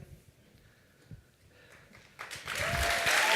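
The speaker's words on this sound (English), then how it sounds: "I expect a really enthusiastic jumping crowd in appreciation for all the work they're doing" Crowd at a conference opening ceremony starts clapping for the standing board of directors, the applause building from scattered claps into a loud, sustained ovation.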